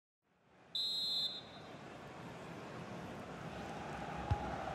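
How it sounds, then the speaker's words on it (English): A referee's whistle in the FIFA 21 football video game sounds one sustained, shrill blast, loud and steady for about half a second. A broad, constant stadium crowd roar continues beneath it and afterward. "So, the whistle then."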